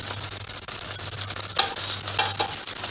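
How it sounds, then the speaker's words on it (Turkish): Food is stirred in a hot pan, with scraping strokes over a steady low sizzle, close by. "Şöyle karıştıracağım."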